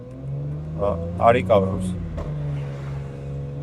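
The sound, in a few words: BMW 340xi engine revving on a dyno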